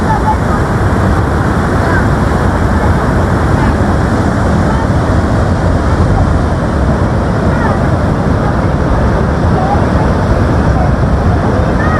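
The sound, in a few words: water rushing out of a dam spillway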